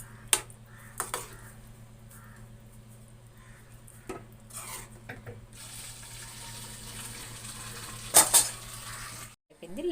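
Buttermilk being stirred into eggplant curry in a pot, with scattered clinks and scrapes of a spoon against the pot over a low steady hum, plus a brief louder clatter near the end.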